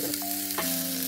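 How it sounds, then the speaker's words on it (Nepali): Onion, tomato, chili and garlic fry in a little oil inside a pressure cooker, a close, continuous sizzle with steady tones running through it. "एउटा कुकरमा मैले कम्ती तेल लिएर प्याज, टमाटर, खुर्सानी, अघि केलाको लसुन सबै हालेर भुट्दैछु"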